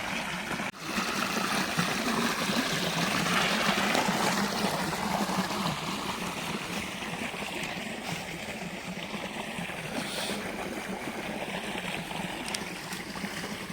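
Steady rushing irrigation water flows continuously at close range, a broad even wash with a soft gurgle, no talking.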